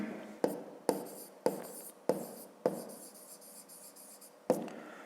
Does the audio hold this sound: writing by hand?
yes